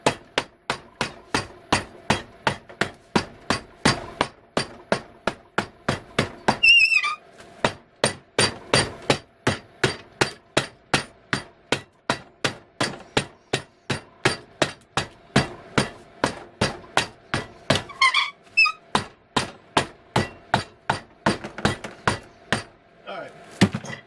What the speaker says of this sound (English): Just take the hammer.